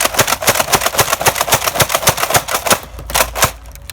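Modified Nerf four-barrel shotgun blaster, a Manta-style Double Dealer build, slam-firing foam darts in a rapid string of sharp, close clacks and thumps with a pneumatic puff on each shot, about ten per second, then a few slower final shots.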